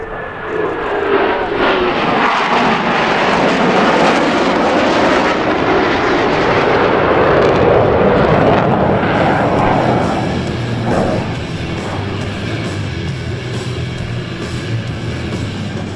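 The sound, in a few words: U.S. Navy Blue Angels jets performing low break cross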